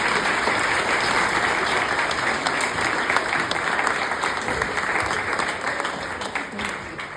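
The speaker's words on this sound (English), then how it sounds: "can we give a big applause, please, for our local businesses and community groups?" At a community celebration of a local support charity, a roomful of people gives strong sustained applause for local businesses and groups, with voices mixed in and the clapping tapering off toward the close.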